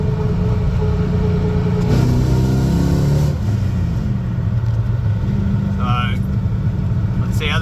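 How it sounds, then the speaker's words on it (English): A car engine hums and revs steadily at 60 to 70 speed, its pitch rising and falling, with a person talking over it throughout. "So at 60, at 70, we're revving at what"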